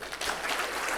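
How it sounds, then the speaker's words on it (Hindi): Audience applause at a Hindi poetry recital, a steady wash of clapping that swells after a brief softer start and holds at a fairly loud level for the whole moment. "तालियाँ बजा दें"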